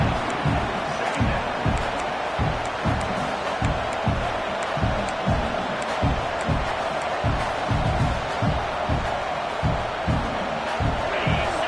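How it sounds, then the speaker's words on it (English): Football stadium crowd at a college game between JA and Clemson, a loud steady roar of cheering with rhythmic thumping throughout, heard under a commentator's voice. "And the crowd coming to life here"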